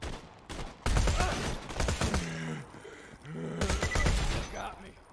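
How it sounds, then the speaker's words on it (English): Gunfire from a bandit gun in Borderlands 2, several bursts of shots mixed with game effects and someone talking over them, loud and close. "You know what? Let's try this gun out."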